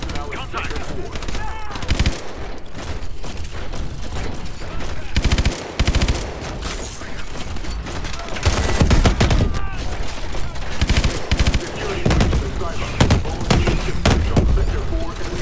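Rapid automatic gunfire and heavy blasts from a Call of Duty Advanced Warfare firefight, loud and nearly continuous with sharp bursts and booms, while voices talk underneath.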